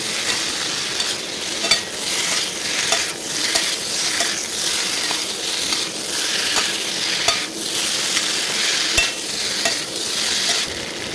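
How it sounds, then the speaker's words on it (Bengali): Cut potatoes and spices are stirred in a frying pan for a potato and pea curry, with steady loud sizzling and repeated scraping and clinking of a utensil against the pan, no voices. "আলুর সাথে মশলাগুলো ভালোভাবে মিক্স করবো।"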